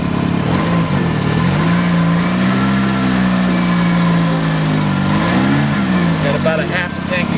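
A car engine fueled with a little gasoline after running on methanol hums at a steady idle, then briefly revs with rising and falling pitch, up close and loud while someone talks over it.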